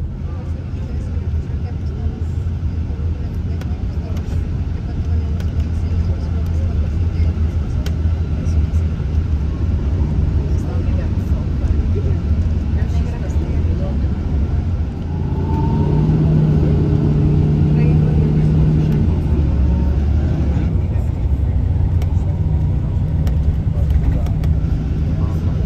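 A car driving along a road in Palm Springs, a steady engine and tire drone that swells slightly midway, running continuously beneath a narrating voice.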